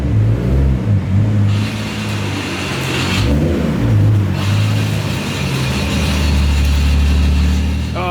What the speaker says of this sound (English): I love how this car sounds, man.